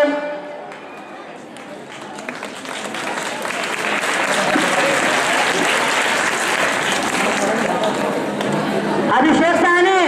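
Enthusiastic applause from a crowd at a prize distribution ceremony for a school general knowledge competition, steady clapping that builds and holds loud throughout, with a voice over a loudspeaker talking across it.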